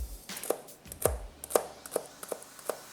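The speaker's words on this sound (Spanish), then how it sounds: "Lo voy a cortar finamente y luego también en cuadritos." A knife chops celery finely on a cutting board, making about seven sharp, close taps at an uneven but quick rhythm with quiet gaps between strokes.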